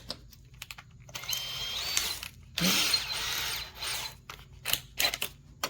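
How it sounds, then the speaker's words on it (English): A power drill whines in several bursts, revving up and stopping, with short pauses and light clicks of handling between runs, close by, drilling holes while fitting regular bulb sockets into a bathroom exhaust fan. "Let's drill some holes."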